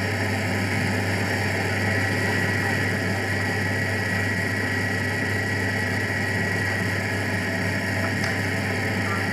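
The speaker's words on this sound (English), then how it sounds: "It's effectively a lawnmower engine that's keeping him there" Paramotor powered by a small lawnmower-type engine droning steadily in flight, a continuous even buzz heard from a distance with no talk.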